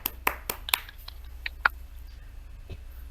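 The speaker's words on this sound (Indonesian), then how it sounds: "Tepuk tangan untuk kalian semua." Children clap hands in a classroom after singing the Indonesian national anthem, a handful of sharp, scattered claps rather than steady applause, fairly close and with no talk.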